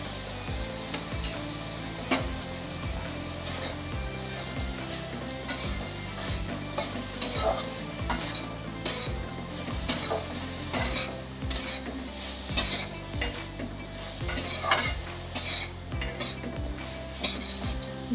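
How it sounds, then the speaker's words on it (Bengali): Turmeric, cumin, ginger and green chilli paste stirred in a frying pan, with repeated spatula scrapes and taps against the metal over a gentle sizzle, close and steady throughout. "ভালো করে মিশিয়ে নিলাম মশলাগুলো"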